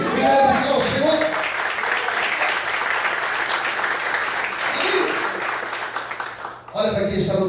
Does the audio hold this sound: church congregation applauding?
yes